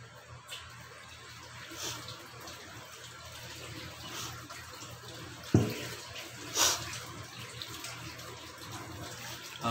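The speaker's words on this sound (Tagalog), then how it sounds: "At sa hugasan ko na itong ginamit ko para matapos na." Cooking utensils used to prepare baked tilapia being washed in a kitchen sink under running tap water, a steady low rush with a few brief clinks and splashes, near and moderately quiet, with no talking.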